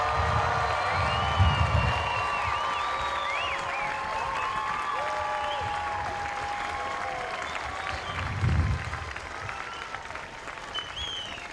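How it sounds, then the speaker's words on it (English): Sustained applause and cheering from a large crowd at a US Air Force basic military training graduation ceremony, with dense clapping, whoops and high shouts continuing throughout and occasional low rumbles underneath. "can I get a loud and proud applause for how good these 494 airmen and these MTIs look?"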